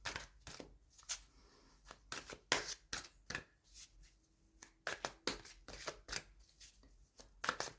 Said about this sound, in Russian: Перемешаю пока карты Таро.